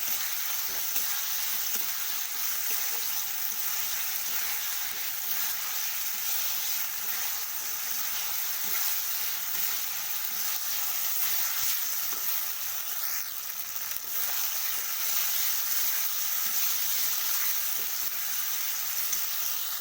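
Duck eggs frying in a cooked-down spice paste for egg curry, giving a steady, close, continuous sizzle with faint stirring scrapes throughout, and no voices.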